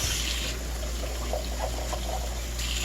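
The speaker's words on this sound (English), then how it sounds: "And now that the colander's all clean. Quick rinse." Running water rinses a colander during rock tumbling cleanup, a steady loud rushing stream with light splashing and trickles, close and continuous without talking.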